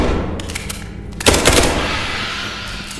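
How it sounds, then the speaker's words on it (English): Video game firefight with bursts of rapid automatic gunfire, a quick cluster of sharp shots followed by a louder burst and lingering echo, close and loud with no talk. "Shoot them quick, cause they're shooting back at us"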